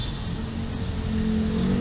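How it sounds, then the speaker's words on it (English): Busy road traffic with cars, motorcycles, buses, three-wheelers and vans passing, heard as a steady low rumble of engines that swells slightly toward the end, with no talk. "just so much traffic out there"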